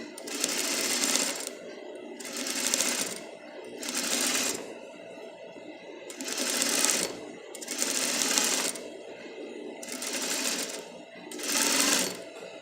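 A sewing machine stitches a single welt pocket bag in about six short bursts. Each run of fast stitching is separated by a brief pause with faint handling sounds, heard up close.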